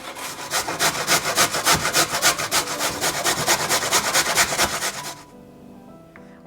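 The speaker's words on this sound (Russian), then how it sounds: "И также я сразу натираю одну довольно крупную морковь на мелкой терке." A large carrot is rubbed against a fine grater in quick rhythmic strokes, each a scratchy rasp, about a dozen close, loud strokes in steady succession before stopping abruptly.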